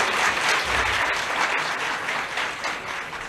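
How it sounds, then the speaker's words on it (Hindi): Audience applause at a Punjab government event, a steady, dense burst of clapping from a large crowd that holds at full strength throughout with no speech over it. "इस बात पे सबसे ऊंची ताली बज रही है।"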